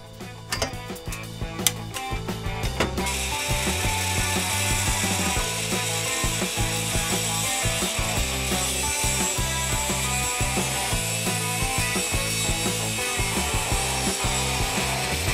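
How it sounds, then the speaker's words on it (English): A saw cuts through a Hatfield shotgun barrel to shorten it to 19 inches, a loud, steady, close rasping stroke after a few sharp knocks at the start. "So after cutting the barrel down"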